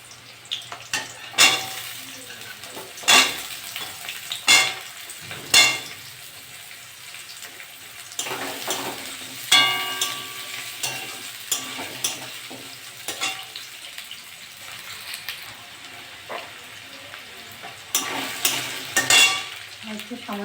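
Potatoes and onions frying in a pan for a ridge gourd and shrimp curry, a continuous low sizzle broken by repeated loud scrapes and clatters of a spatula stirring, close up and without talking.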